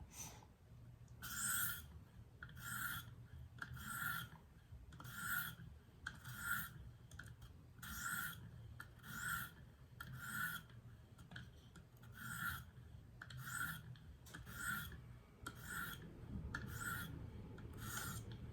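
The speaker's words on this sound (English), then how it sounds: "from here, we're gonna do the 40 strokes with the 1500 grit diamond." Kershaw Reverb knife blade drawn across a 1500 grit diamond stone on a KME sharpener, a quiet, close rasping stroke repeated evenly about every second, each with a bright scratchy edge.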